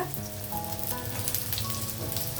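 Chopped onions fry in hot oil in a pan, giving a steady, close, crackling sizzle that continues unbroken with no talk over it.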